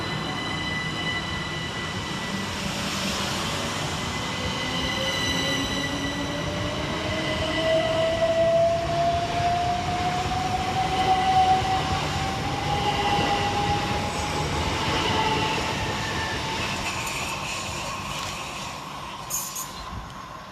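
Southern Railway class 377 electric trains running through Anerley station in London, with a steady rumble of passing carriages, a rising whine of traction motors and faint wheel squeal, heard at moderate distance without speech.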